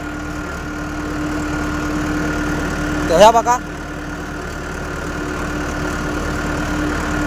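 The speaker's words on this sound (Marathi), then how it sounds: "ह्या बघा अजून पण ट्रॅक्टर चालवलोय." A tractor engine idles steadily and loudly throughout, a constant low drone, with a brief voice speaking over it partway through.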